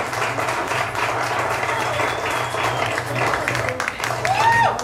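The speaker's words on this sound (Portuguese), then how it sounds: "Palmas, pessoal." Crowd clapping at a school event as a biology teacher is introduced, moderately loud and steady, mixed with voices, a low hum and a brief whistle-like cry near the end.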